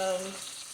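Beef frying in a pan, a brief, steady close sizzle with a faint tonal ring at the start that fades into an even hiss.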